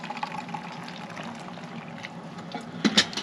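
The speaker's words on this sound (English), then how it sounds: "Add your water" Water poured into a metal mess tin onto roasted dandelion root for a wild coffee brew, a soft steady trickle outdoors, ending in a brief louder splash near the end.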